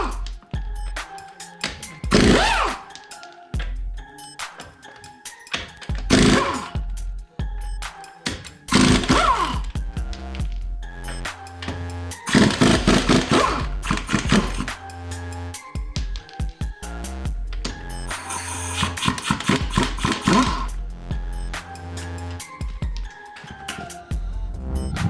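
Impact wrench spinning off lug nuts during a tire rotation, bursting in several loud rattling runs of a few seconds each with short pauses between.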